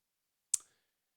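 One sharp, close mouse click while working in the Drupal web interface, sudden and then gone, with silence on both sides.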